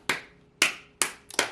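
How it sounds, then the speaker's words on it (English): A single person clapping four times in a slow, uneven rhythm, with sharp, close hand claps and the last two coming closer together, no voices. "Applause, round of applause."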